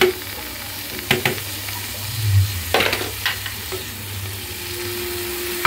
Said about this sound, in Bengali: তো এই যে আমি এখন এই করলা আর আলু ঢেলে দিব।